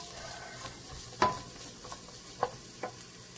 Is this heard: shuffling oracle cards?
no